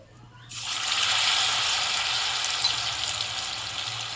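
Battered raw potato pieces dropped into plenty of hot oil, bursting into a loud, steady bubbling sizzle that stays strong and close for several seconds.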